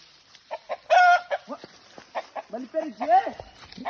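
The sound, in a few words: chicken clucking and crowing during a jungle fowl hunt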